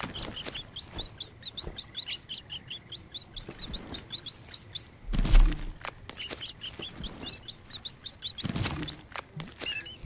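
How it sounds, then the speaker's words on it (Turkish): Many mice squeak rapidly in the video game Green Hell Spirits of Amazonia, with high, sharp chirps repeating in quick bursts throughout, alongside soft patter and a louder thump partway through. "Absürt miktarda fare var burada"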